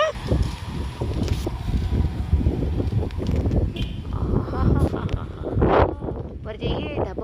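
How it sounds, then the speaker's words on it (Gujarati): Strong storm wind buffets and roars across the microphone in constant gusts, with people talking and calling out over the blowing throughout. "પવન આવી રહ્યો છે મસ્ત ઉડી જઈએ એમ થઈ જાય છે"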